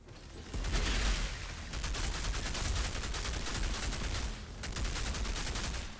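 Sustained automatic gunfire from poison bullets in Outriders, a dense rattling stream of shots at moderate distance with brief lulls between bursts.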